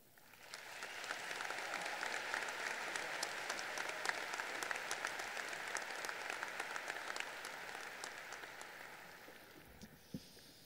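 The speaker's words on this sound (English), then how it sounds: "One more round of applause for both Olivia and Grace" A graduation crowd at Lindbergh High School's 2023 ceremony claps for two students, a broad sustained wave of applause that swells, holds steady, then tapers off, with a bump near the end.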